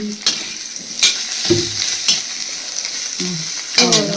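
Ingredients roast in a pan with a continuous sizzle, broken by repeated close spatula scrapes and clinks against the metal at an irregular pace.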